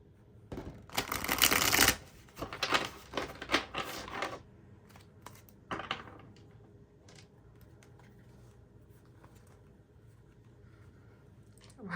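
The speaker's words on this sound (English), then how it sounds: "I kind of want to do 3 shuffles for you." Tarot cards are shuffled by hand: a loud, dense riffling burst, then several shorter crisp shuffles that thin out into near silence, with no talking.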